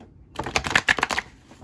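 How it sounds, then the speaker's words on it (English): An Art of Manifestation oracle card deck gets a quick shuffle, a close burst of rapid riffling clicks lasting about a second, with no voices. "oh, this is one of the hardest decks ever to shuffle"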